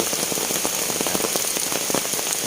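Steady rain patters on hard surfaces in the grounds of Wat Don Daeng, a village temple, on a wet morning, with dense close drops and scattered sharper splats throughout and no voices.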